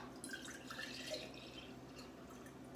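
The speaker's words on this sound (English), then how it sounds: "I'm going to pour me a jar" Honey lemonade pours from a container into a glass jar in a home kitchen, a faint, steady liquid trickle with light dripping, heard alone at low level.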